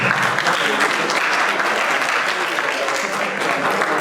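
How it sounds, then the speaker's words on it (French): An audience gives a steady, dense round of applause that holds at a constant level from start to finish, close and loud, with a faint murmur of voices mixed in. "Applaudissez s'il vous plaît."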